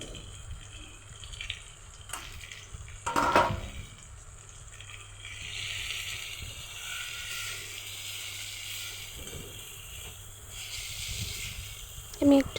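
Prepared spices hiss and sizzle in a hot pan for a potato and paneer curry, a steady close frying hiss with a few sharp clatters.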